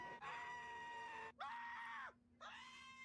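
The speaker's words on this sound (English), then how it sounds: "He's screaming like Homer Simpson." A man screams loudly in three long sustained bursts separated by short breaks, harsh and strained, up close with no other sound.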